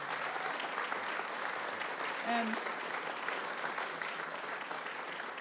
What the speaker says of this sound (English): So give them a round of applause for coming,